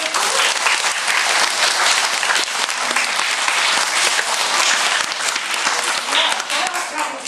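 Sustained audience applause fills a school assembly, dense and steady clapping from a crowd at close range throughout, with no pause or break in the noise.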